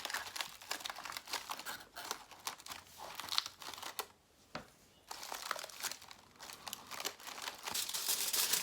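Aluminum foil crumpled and pressed by hand while shaping a horse sculpture, a close, continuous crinkling with sharp crackles and one short quiet gap before the rustling resumes louder.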